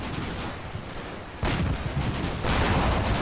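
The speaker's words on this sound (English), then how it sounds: "This is quite the shootout." Gunfire shootout in the Normandy wargame Combat Mission: Battle for Normandy, with a .50 cal machine gun hammering among other weapons. There is a steady dense roar of firing that swells louder partway through and keeps building.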